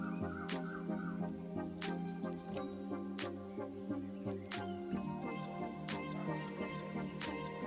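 Chickens cluck and squawk close by while being fed maize, overlapping calls and sharp cries repeating over a steady background.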